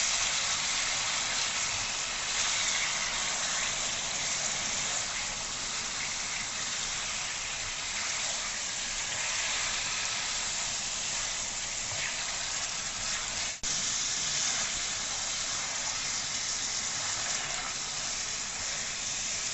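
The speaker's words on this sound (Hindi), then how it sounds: "मटन ऐड करने के बाद इसे 5 से 6 मिनट के लिए आपने भूनना है ताकि मटन का कलर चेंज हो जाए" Mutton frying in a karahi gives a loud, steady, hissing sizzle with a dense crackle that runs unbroken throughout, with no talking.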